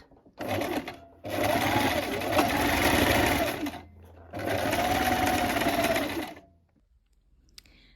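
A sewing machine backstitches a seam on a Prince of Wales check dress, running in two loud, close bursts of rapid stitching of a couple of seconds each, separated by a brief pause and followed by quiet handling.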